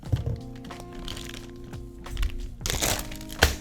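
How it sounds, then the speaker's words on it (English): A plastic piping bag filled with choux paste is handled and crinkled in a pastry kitchen, giving scattered crackles and soft thunks over a low steady background hum, with a louder crunchy burst near the end. "Cut this piping bag tip bigger than you cut that one."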